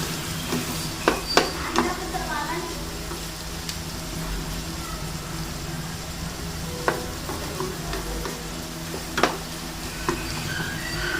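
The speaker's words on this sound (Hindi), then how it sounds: "साथ ही डाल देना अदरक। अब इसको थोड़ा सा भूनें।" Ginger frying in a pan with tomatoes and green chillies: a continuous close sizzle fills the clip, with occasional scrapes and clicks of a spoon stirring.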